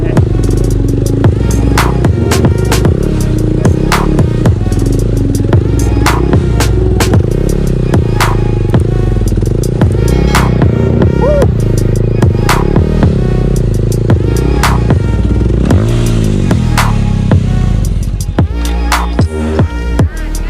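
Motorcycle engine during a freestyle stunt riding warm-up with hand braking, a steady loud running drone with repeated sharp clatters and brief rev changes throughout, easing slightly near the end.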